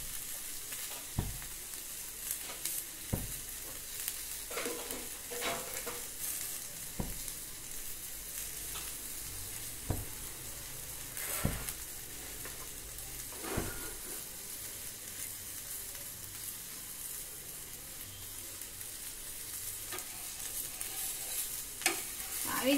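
Rava uttapam cooking in oil on a pan gives a steady, close sizzle and frying hiss. Occasional scraping and tapping from a spatula sound throughout, with no talking.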